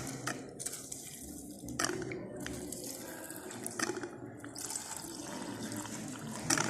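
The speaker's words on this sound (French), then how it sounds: "On va ajouter de l'eau distillée" Distilled water poured onto a bread sample in a chemistry test, a soft running trickle with faint drips and small clinks, steady and close throughout.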